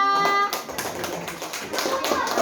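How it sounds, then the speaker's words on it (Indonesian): A group of children clapping together, a dense burst of overlapping claps that starts abruptly and continues steadily, with a faint voice early on. "kasih tepuk tangan untuk kelompok semangka"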